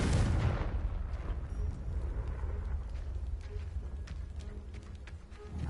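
A Confringo fire spell blast in Hogwarts Legacy, a loud burst at the start that fades into a long crackling, rumbling tail.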